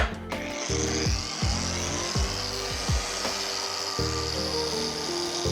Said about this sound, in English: we got 4000 grit here on our machine, hitting the light and then a little bit on the pad as well